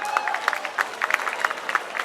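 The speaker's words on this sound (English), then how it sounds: "Give a huge round of applause, guys." Audience at the Xavier Youth Festival at Xavier University, Patna, clapping in a bright, busy patter, with sharp claps and some crowd noise over a steady bed of sound.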